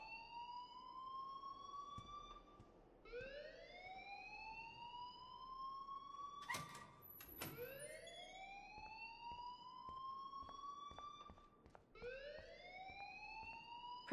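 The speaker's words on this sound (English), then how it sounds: "please turn off that alarm since that's your job." A school fire alarm in the video game Life Is Strange wails in long rising sweeps that repeat steadily. It is loud and fills the whole stretch, with a brief burst of clatter around the middle.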